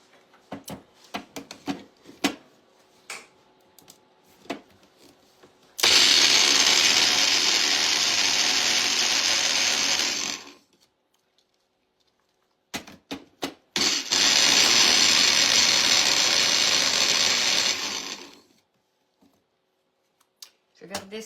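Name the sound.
blender mixing powdered sugar for lime fondant cakes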